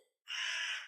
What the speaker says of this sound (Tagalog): Parang may naririnig po akong uwak, Aling Belinda.